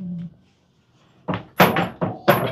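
A large door on a small house is opened, giving a series of four loud, close thuds and rattling bangs in quick succession after a brief low hum and a moment of quiet.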